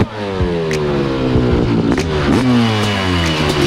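A 1990 Honda CR500 dirt bike engine revs loud and close, its pitch dropping and climbing as the rider shifts toward second gear, with a rough two-stroke blat throughout.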